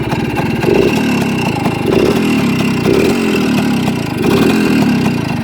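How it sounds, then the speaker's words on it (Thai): Rebuilt Suzuki A100 two-stroke motorcycle engine idling close and loud, a steady putter with slight periodic rises in pitch, no talk. "เครื่องยนต์ทำมาหมดแล้วครับ"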